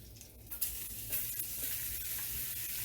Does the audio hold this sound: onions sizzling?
yes